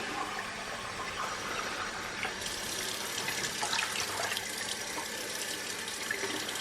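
Tap water runs steadily into a sink while a heatproof glass dish is washed, a continuous close hiss that grows louder and brighter partway through, with no talking.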